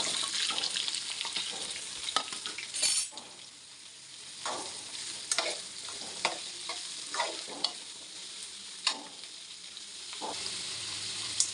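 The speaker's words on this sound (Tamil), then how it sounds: "வெங்காயம் பச்சை மிளகா கருவேப்பிலை சேர்த்துக்கலாம் அது கூடவே சுரக்காயும் சேர்த்து நல்லா வதக்கிக்கலாம்" Onion, green chili, curry leaves and chopped bottle gourd sauté in a pan, a steady sizzle broken by repeated scraping stirs and clacks of a spoon, close and fairly quiet with no talking.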